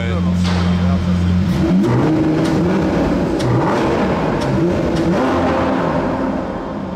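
Loud V12 of a Lamborghini Aventador SVJ revving hard, a sustained roaring engine note with rising and falling revs, close by, with people talking over it.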